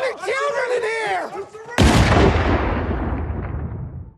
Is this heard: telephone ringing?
no